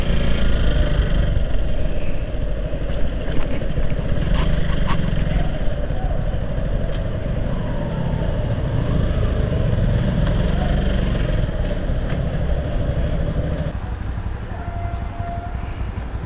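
Motorcycles idle together in a queue at the Padma Bridge toll plaza, a steady, close, unbroken engine drone that runs throughout with a few faint clicks on top.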